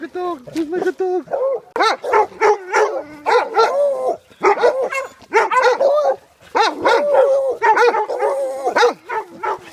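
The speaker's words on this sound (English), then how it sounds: "Hey, looks like a dog." Dogs barking at a dog camp over Thanksgiving, loud close bursts of repeated barks and yips with short gaps, a voice speaking between them.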